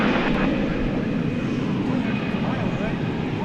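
An MD-11 airliner on the runway at DFW Airport at night gives a continuous broad engine rumble and roar, fairly loud and steady, with people talking over it.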